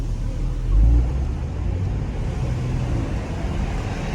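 A 2020 Mercedes-AMG C43 engine pulls hard under acceleration, a deep steady rumble from inside the car with a brief louder swell early on, then a sustained drone.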